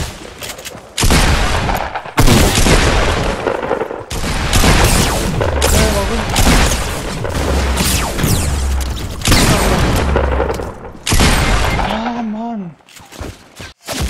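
Rapid bursts of gunfire and booming shots from a battle royale video game fill the scene, loud and nearly continuous, with players talking over the shooting.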